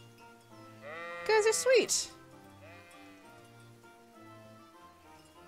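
Sheep bleat in the medieval role-playing game Kingdom Come: Deliverance, a few wavering close bleats bunched together in the middle, heard alongside a player's speech and soft game music.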